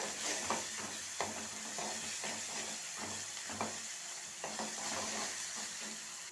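Sliced onions and ginger-garlic paste sizzle steadily in hot oil in a pan for a ridge gourd curry, with repeated spatula scrapes and taps as the mixture is stirred, fairly quiet and close.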